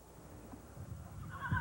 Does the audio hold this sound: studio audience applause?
no